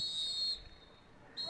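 A referee's whistle at an under-14 boys' provincial youth soccer game blows the first half to a close, a sharp shrill blast, then a brief pause and a second blast, heard fairly close and clear.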